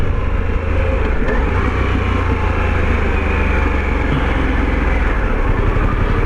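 A 2021 Harley-Davidson Pan America motorcycle engine drones loudly and steadily as the rider downshifts, with constant wind rush layered over the engine note.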